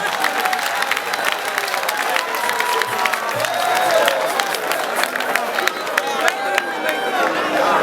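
Comedy show audience clapping and cheering, a dense continuous crowd noise with scattered sharp claps, close and steady throughout, with voices chattering through it.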